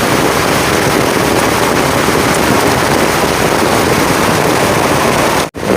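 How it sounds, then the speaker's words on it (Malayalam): Heavy rain driven by wind pours down outdoors during a farm harvest, a dense, unbroken roar that stays loud and steady throughout and cuts out abruptly just before the end. "നല്ല മഴ, നമ്മൾ കുട കൊണ്ടുവന്ന കാരണം രക്ഷപ്പെട്ടു കിട്ടാ"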